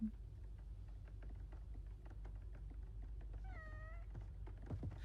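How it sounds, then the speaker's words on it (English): A cat in the farming video game Coral Island gives a single short meow partway through, faint over steady low background hum and soft clicking taps. "I got distracted by cats."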